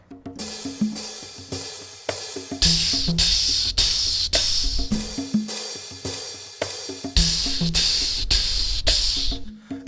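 A human voice imitates a long open hi-hat, with sustained hissing tsss bursts stretched over a beatboxed groove of low thumps and clicks, repeating in even cycles, close and unaccompanied.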